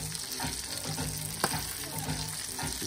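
Jalapeño poppers sizzle steadily on a Weber Genesis E330 grill while sauce is dabbed on them with a brush, producing a constant close frying hiss with faint soft dabbing sounds and one small click.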